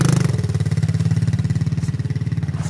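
A powerful quad bike engine revs up close with a rapid, pulsing throb. It opens with a brief higher surge, then settles into a loud, steady chugging rhythm.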